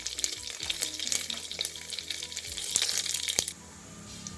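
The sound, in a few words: frying panch phoron spices and dried chillies in oil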